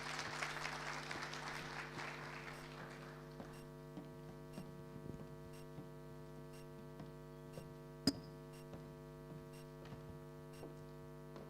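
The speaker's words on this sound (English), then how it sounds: "Please, let's give him a round of applause as we welcome him on stage." Audience applause at a national ICT summit as a director and secretary general is welcomed on stage, a broad clapping wash in the first few seconds that fades under a steady electrical mains hum.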